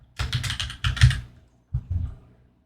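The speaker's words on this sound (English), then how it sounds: "I'm just going to type the word sign." Brisk typing on a computer keyboard, close and clear: a rapid run of key clicks, a brief pause, then a second shorter burst before stopping.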